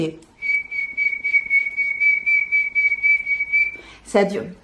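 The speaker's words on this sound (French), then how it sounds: "sympa ce petit sifflement" A steady, high-pitched whistle from a hair product, held on one note with a soft pulsing wobble, lasting several seconds before breaking off into a brief noisy burst.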